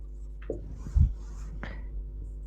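Chalk or marker scratching across a classroom board in a couple of short strokes and taps, with a steady low hum underneath.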